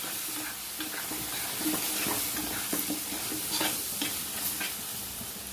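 Dried gooseberries stirred into hot spiced oil for a pickle, a steady close sizzle with soft scraping stirs recurring throughout, no voices.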